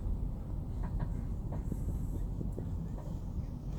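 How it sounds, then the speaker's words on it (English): A wood-fired steam locomotive rumbles steadily at rest while building steam, giving a low continuous drone with a few faint metallic clanks. "I think the steam engine's getting ready to go"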